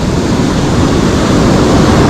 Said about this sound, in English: There's a whole set of waves coming through.